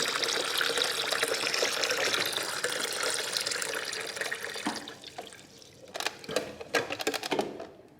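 Water pours steadily into a Xiaomi Mijia instant hot water dispenser for several seconds, then stops, followed by a few sharp plastic clicks and taps from handling the unit.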